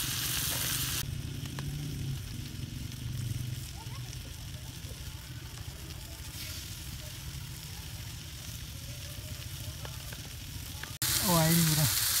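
Dove meat kebabs fry in hot ghee outdoors in a forest, a steady close sizzle with faint stirring and scraping, louder bursts at the start and end.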